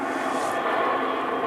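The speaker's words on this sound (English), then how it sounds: "Sorry about the plane." An airplane passes overhead an allotment garden, a steady broad roaring wash of engine noise that stays level and fairly loud throughout, with no voices.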